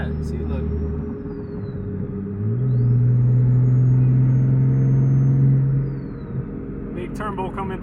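A car fitted with a big T51R turbo rumbles past, its engine note swelling into a loud, sustained drone mid-clip before easing off, with a faint turbo whistle and someone talking over it.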